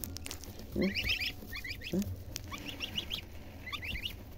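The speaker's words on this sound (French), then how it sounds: "Les oies de Toulouse." Toulouse geese give a few brief honking calls and chattering bursts at close range, spaced irregularly over a low, steady outdoor background.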